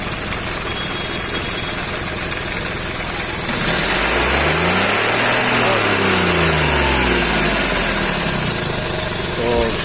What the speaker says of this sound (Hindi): तो थोड़ा रेस कर गाड़ी।